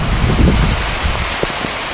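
Heavy rain pours outdoors as a loud, continuous hiss that fills everything, with a few dull thumps and rustles underneath and no one speaking.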